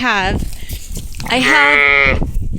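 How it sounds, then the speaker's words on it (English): Two loud, close sheep bleats, a short cry and then a longer wavering one, come from a homestead ewe calling near her lambs while perched up in the trees. "These are my tree-dwelling sheep."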